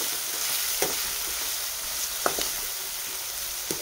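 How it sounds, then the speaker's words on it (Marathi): Onion sautéing in oil with green chillies for upma gives off a steady, even sizzle, broken by a few sharp spatula clicks and scrapes against the pan. No one speaks. "आपल्याला कांदा छान परतून द्यायचा आहे"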